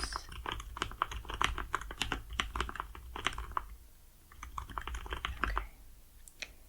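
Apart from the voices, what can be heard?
computer keyboard typing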